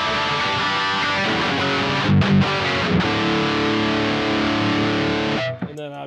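An electric guitar plays sustained chords through a Synergy SYN 2 amp with a shimmering, wavering chorus effect, held steadily before cutting off near the end.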